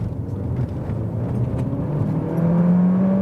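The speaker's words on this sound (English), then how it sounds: "let's now see how much power this engine has from 30 kilometers an hour" An Alfa Romeo Tonale's engine pulls hard from 30 km/h, its steady drone rising gradually in pitch and loudness as the car gains speed from inside the cabin, with no talk.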